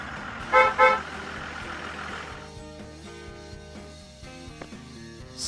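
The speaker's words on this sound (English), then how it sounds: "Bus." A city bus gives two short, loud horn toots, followed by the lower rumble of its engine and passing road traffic.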